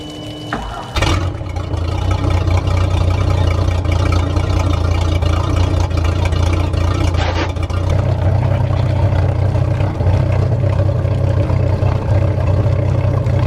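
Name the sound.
boat inboard engine idling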